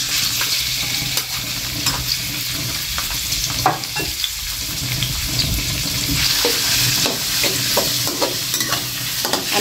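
Pork and garlic stir-fry in a hot pan for a glass-noodle dish with egg, with a loud, constant sizzle and frequent quick scraping strokes of a spatula throughout.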